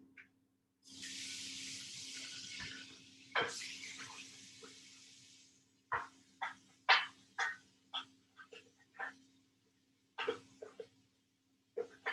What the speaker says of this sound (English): I'm just going to go and rinse these bowls.